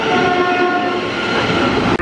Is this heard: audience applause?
no